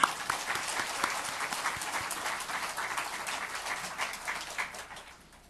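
Congregation applauding during a New Year's Day Sunday worship service in a church: a sustained wash of many hands clapping that gradually fades toward the end.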